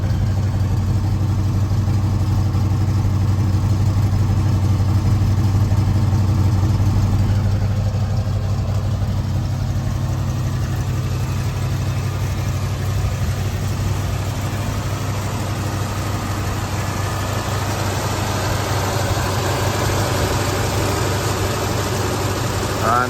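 A 1971 Ford Mustang Boss 351 in Grabber Lime idles through its dual exhaust on a chilly Indiana morning, a steady low burble that holds even and close throughout with no talk over it.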